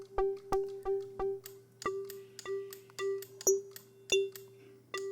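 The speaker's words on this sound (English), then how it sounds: "to create that very old e-piano FM sound thing, I used FM from B, and I used a triangle wave" Synthesized FM electric-piano pluck built on a triangle-wave modulator set at zero octaves, a retro e-piano tone playing a steady run of bright, bell-like struck notes, each decaying quickly, on one repeated pitch with no voices.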